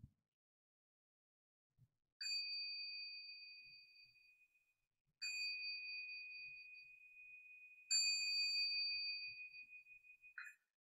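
Three struck bells ring out at the close of a Zen Buddhist Sunday service, each a clear metallic tone that sustains and slowly decays, spaced a few seconds apart in an otherwise quiet room.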